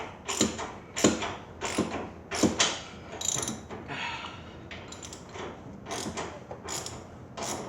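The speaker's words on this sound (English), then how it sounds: "Let's hold this with my open-ended wrench this time." Open-ended wrench working a rear shock absorber bolt on a Ford F150 truck, giving a series of close metallic clicks and creaks in irregular bursts, with no talking.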